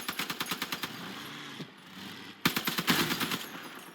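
Rapid bursts of gunfire hit a vehicle in a vehicle combat video game, two rattling volleys separated by a short lull, loud and close.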